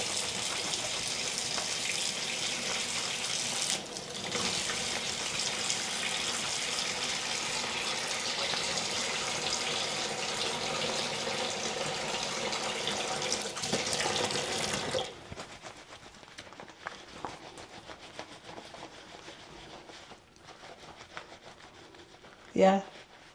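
Running tap water pours steadily over a bar of freshly made homemade soap for about fifteen seconds, then stops, leaving quieter sink handling and a sharp knock near the end.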